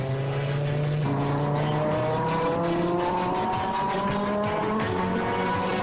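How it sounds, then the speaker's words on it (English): Audi five-cylinder turbocharged quattro race car on a qualifying run through the Long Beach street circuit, its engine droning loud and close as it climbs through the gears with brief shifts and steady high revs. "The five-cylinder turbocharged quattro is no match for the more powerful V8s on the straightaways."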